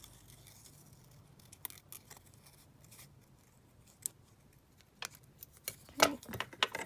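Scissors cut a shape out of paper from a 12 x 12 master board with quiet, scattered snips. The cuts grow crisper and more frequent near the end, with no talking.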